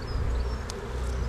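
Honey bees hum in a steady low drone at an open hive, with a faint higher buzz passing close by for a moment.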